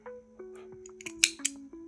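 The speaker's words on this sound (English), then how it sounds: "And now we are going to cut our tail" Scissors cut a woolen yarn tail close by, giving a couple of quick, sharp snips near the end, after a faint tonal hum.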